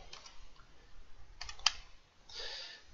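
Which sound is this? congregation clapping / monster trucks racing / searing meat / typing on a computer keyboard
typing on a computer keyboard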